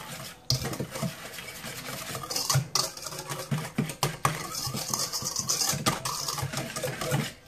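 Batter with brown sugar is mixed in a bowl with rapid, continuous scraping and clinking of a utensil against the bowl, a busy, close rhythmic stirring that runs on with brief pauses.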